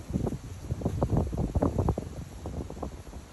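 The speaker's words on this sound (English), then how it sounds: "There's a nice wind" Outdoor wind gusts buffet a Rode VideoMic Pro Plus mounted on a GoPro 10, producing loud, low, irregular rumbling bursts of wind noise that pulse throughout.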